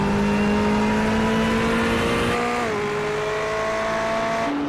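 Onboard a Ferrari sports race car at Watkins Glen, the engine holds a loud, steady high-pitched wail, then drops sharply in pitch around a downshift or lift before climbing again.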